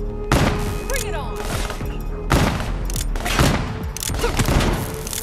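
Heavy gunfire in Call of Duty: Black Ops 3, dense bursts of loud booming shots and rapid fire that come in waves, close and harsh over steady game noise.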